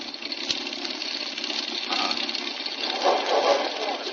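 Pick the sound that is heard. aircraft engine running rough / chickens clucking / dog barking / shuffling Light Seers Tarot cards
aircraft engine running rough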